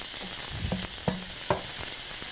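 Onions sauté in a pan with a steady close sizzle, punctuated by several scraping, clattering stirs of a utensil against the pan.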